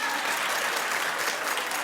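Television talk show studio audience breaking into loud, dense clapping, a continuous wash of many hands filling the room without pause.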